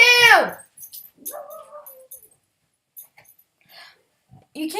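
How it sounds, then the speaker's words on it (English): A dog gives one sharp close bark, then a series of soft high whimpers and whines separated by silence, ending with another short bark. "Dogs!"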